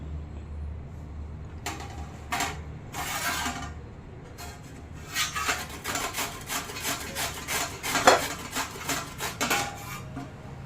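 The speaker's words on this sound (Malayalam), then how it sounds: "റാഡിഷൊക്കെ ഇവിടെ ഗ്രേറ്റ് ചെയ്തെടുത്തിട്ടുണ്ട്." Peeled radish rubbed against a metal grater in a home kitchen, giving repeated rasping scrapes in a steady back-and-forth rhythm, close and fairly loud with no talk.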